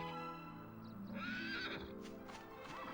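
A horse whinnies in the Dragon Quest 8 video game, a rising, wavering neigh standing out clearly over steady in-game background music, with a few soft hoof clops mixed in.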